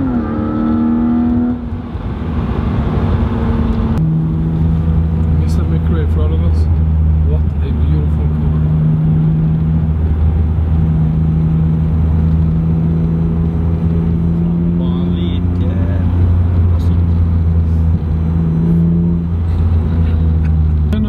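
A modified Audi with roughly doubled horsepower pulls hard at full throttle, its engine drone rising steadily and loud through one long sustained run, with a brief shift early on and no voices over it.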